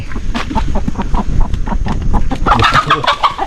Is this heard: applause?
no